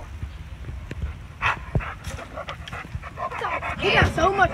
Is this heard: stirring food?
no